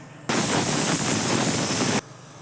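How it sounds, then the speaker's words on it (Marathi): A pressure cooker with vegetables inside lets out one loud, steady hiss of steam that starts sharply, lasts under two seconds and then cuts off to near silence. "दोन शिट्ट्या झाल्या"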